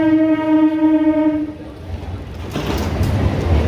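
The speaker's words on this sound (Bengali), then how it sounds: "ওই ওইদিকে ট্রেন যাচ্ছে দেখুন রেল লাইনের একদম পাশেই রয়েছে স্টুডিওটি" A train passes right beside a clay idol studio next to the rail line in Kumartuli: a loud, sustained horn blast is followed by the rumbling of the passing cars.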